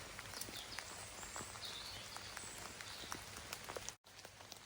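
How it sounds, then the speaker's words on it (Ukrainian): Light rain falls in a foggy morning forest, a faint, steady patter with scattered individual drops and a brief dropout near the end. "Гарний такий туман, маленький падає дощ."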